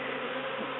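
Swarm of honeybees near a top bar hive, a continuous close buzzing hum with no break over a brief moment.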